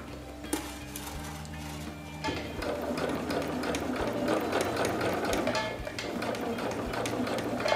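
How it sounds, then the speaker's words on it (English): A domestic sewing machine stitching a fabric seam, a steady close mechanical whirr that starts with a short stop-start burst and then runs continuously. "I'm going to backstitch"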